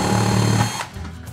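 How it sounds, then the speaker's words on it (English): A power drill bores a small hole into a back plate for hanging a DIY LED logo sign, a steady close whir that cuts off partway through, leaving quieter room noise. "we need to drill a little hole to hang it"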